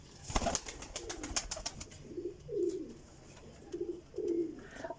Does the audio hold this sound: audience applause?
no